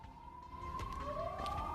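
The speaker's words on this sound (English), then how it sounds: "Police siren." A police siren wails steadily in a video store sim video game, rising and sliding in pitch over a low hum, moderately loud and alone.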